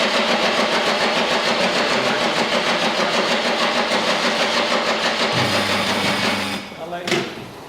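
A replica American state trooper police car's engine runs loud and steady for several seconds, then stops abruptly and cranks again briefly, with people talking over it.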